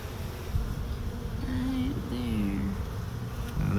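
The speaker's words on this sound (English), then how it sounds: "Let's see all these bees." Honeybees, including larger drones, buzz around a hive during beekeeping: a close, continuous droning hum with individual bees passing by, with no talking.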